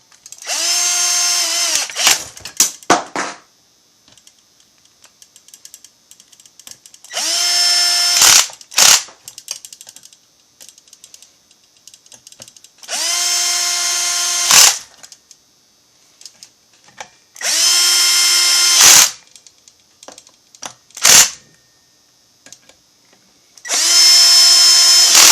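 A power drill driver drives screws into a chainsaw engine block on a build kit, with five short whirring bursts, each followed by quick stuttering ratchet-like clicks, set apart by quiet pauses.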